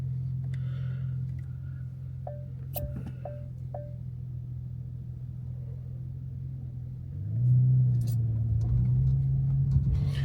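A 2018 Porsche Panamera 4S with a 2.9L V6 biturbo engine idles with a low, steady rumble, a few faint ticks over it, then rises briefly in a mild rev before easing back.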